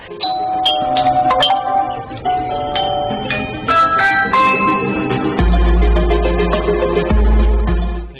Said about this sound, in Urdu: and then video door bell